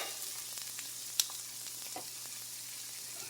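Onions sizzle steadily in a pan at low level, a soft continuous frying hiss with a faint hum and a brief sharp click near the middle; no voices.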